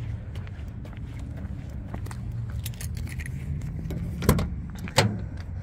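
Keys jangle near a 2005 Ford Ranger as someone moves around the truck, with a faint engine rumble underneath and two sharp clicks or thumps toward the end.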